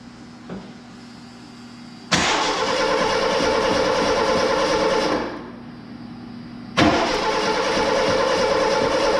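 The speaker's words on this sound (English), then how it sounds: "We're going to run over here and see if we can't get this thing to fire up." A 1983 Ford Mustang GLX convertible engine cranks and tries to start in two long, steady bursts with a short pause between them, loud and close.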